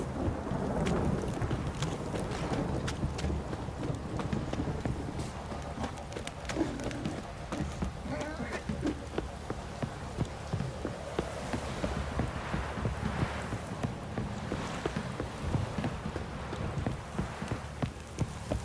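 Steady, dense rain pours throughout with low thunder rumbling beneath it and scattered sharp spatters, loud and close, with no voices.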